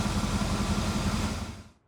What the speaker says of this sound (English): Listen to that one purr. 396, folks. 4-barrel, dual exhaust, Edelbrock carbon manifold.